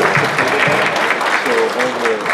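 Audience applause at a convention panel: a dense, steady burst of clapping from the crowd, loud and even throughout the short span.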